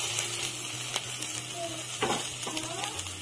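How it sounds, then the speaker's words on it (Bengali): Onion fries lightly in a pan with chopped ginger and garlic, a steady sizzle with occasional stirring scrapes and utensil taps, close and continuous. "পেঁয়াজটা হালকা করে ভেজে নিচ্ছি। আদা কুচি, রসুন কুচি দিয়ে দিলাম।"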